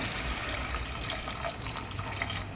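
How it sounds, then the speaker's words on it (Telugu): Half a litre of water poured steadily onto prawns in a pot for prawn biryani, a continuous close splashing stream lasting a couple of seconds with no talk. "ఇప్పుడు ఈ రొయ్యలు ఉడకాలంటే ఒక 1/2 లీటర్ వాటర్ వేయాలండి"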